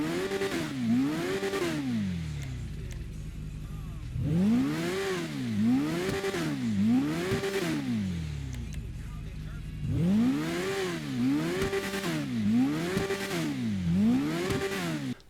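A straight-piped motorcycle with a full-system exhaust revs repeatedly in GTA Online, each burst rising and falling in quick throttle blips, grouped in three clusters separated by brief idling lulls, loud and close.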